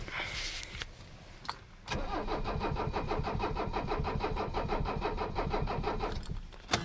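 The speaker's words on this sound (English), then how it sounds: "just going to give the glow plugs one cycle and see if we can get her to crank" Starter cranking a 1985 Mercedes 300CD diesel engine after a glow plug cycle, a steady rapid rhythmic churning that runs several seconds without catching, preceded by a few clicks.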